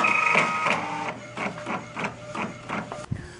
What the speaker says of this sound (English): our printer definitely is working very hard today